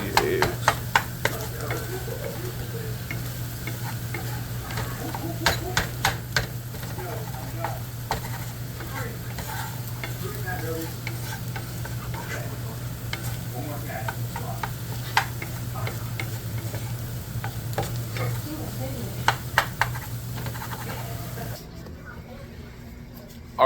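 Eggs being stirred and scrambled in a frying pan, giving a steady sizzle with scraping stirs, heard close up with a constant low hum; the pan noise drops away near the end.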